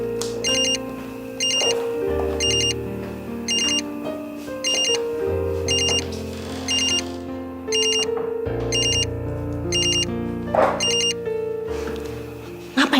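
A telephone rings with repeated bursts of a bright electronic ringtone at a steady rhythm, loud and continuous over a dramatic background music score with no talk.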